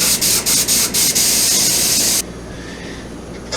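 An airbrush sprays gloss onto a rainbow trout taxidermy mount in short pulsing bursts, then a longer steady close hiss that cuts off, leaving a quiet background.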